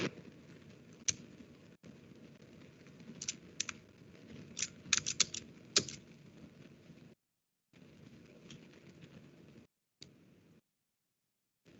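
Someone types on a computer keyboard, entering a static route: close, light key clicks in irregular bursts with short pauses, and quiet gaps near the end, with no talking.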